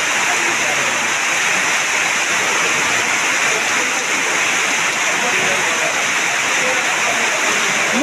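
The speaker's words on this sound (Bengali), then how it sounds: "প্রচুর পরিমাণ বৃষ্টি হচ্ছে আমাদের মিরপুরে" Heavy monsoon downpour in Mirpur, Kushtia, a steady, dense roar of rainfall that holds at a constant level throughout with no breaks, close and loud.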